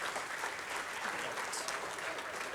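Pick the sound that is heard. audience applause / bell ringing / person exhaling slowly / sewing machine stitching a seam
audience applause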